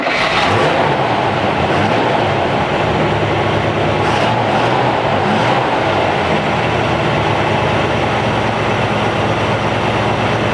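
A 1972 Chevrolet C10 truck engine runs and revs, a loud, dense, steady roar with a lift in intensity around the middle, continuous for about ten seconds with no talk.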